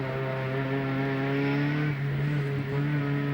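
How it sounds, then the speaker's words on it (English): A Ford Sierra Cosworth touring car with a 16-valve turbocharged engine races at Calder Park, its smooth, wispy engine drone holding steady and loud at close range, then dipping briefly as it shifts. "Sierra Cosworth makes that wispy noise from the 16-valve engine with the turbocharger tagged onto it"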